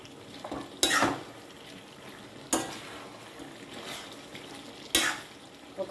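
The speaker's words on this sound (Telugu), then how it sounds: "శనగపప్పు, మినపప్పు, ఎండుమిరపకాయలు, ధనియాలు ఆయిల్ పెట్టి ఆయిల్లో వేయించాలి" Chana dal, urad dal, dried red chillies and coriander seeds frying in oil for a brinjal curry spice powder, with a soft steady sizzle and a few sharp stirring scrapes against the pan, close and without speech.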